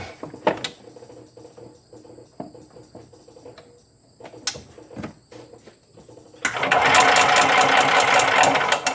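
A Yamaha G9 golf cart engine fired up after being pumped with fuel and rolled downhill, catching abruptly and running loud and steady with a dense rattling roar for the final couple of seconds, after quieter clicking and clunking.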